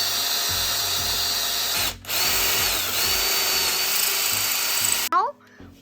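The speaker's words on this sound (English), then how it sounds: "We're planning to drill a hole at the back of the seat tube right here" A power drill boring a hole through the back of a bicycle seat tube, a loud steady whine that briefly cuts out, resumes, then stops with a winding-down tail; a voice speaks near the end.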